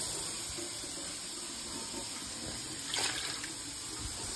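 Water poured from a measuring cup over sweet potatoes in a pot, a brief splashing pour swelling near the end over steady background hiss.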